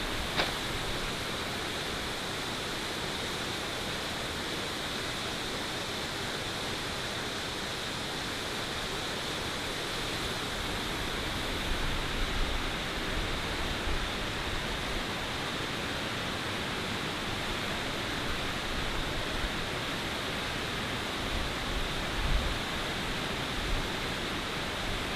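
A river in the Kimberley, Australia flows right beside the bank in a steady, even rushing wash of water that holds at a soft level throughout, with no voices.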